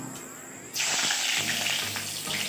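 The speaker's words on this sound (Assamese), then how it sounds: "এতিয়া মই পিঁয়াজখিনি দি দিছোঁ" Onions hit hot oil in a kadai for fish curry, a sudden loud sizzle that bursts in and keeps crackling steadily.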